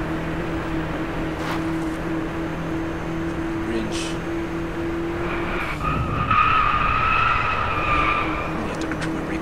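In the Driveclub racing video game, car tires screech in a long sustained skid during a drift while the engine drones steadily underneath, close and loud.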